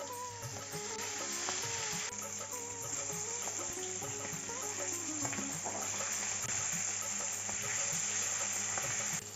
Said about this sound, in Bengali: ইলিশ মাছটা হালকা করে একটু ভেজে নিচ্ছি